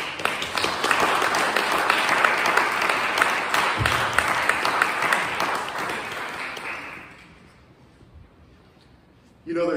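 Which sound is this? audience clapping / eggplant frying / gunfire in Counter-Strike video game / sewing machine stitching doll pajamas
audience clapping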